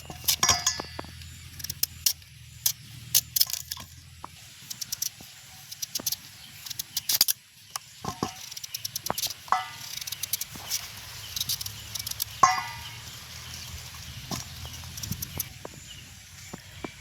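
Knife cutting raw papaya into strips and peeling off the skin: irregular light scrapes, taps and clicks of blade on fruit and board, quiet and close.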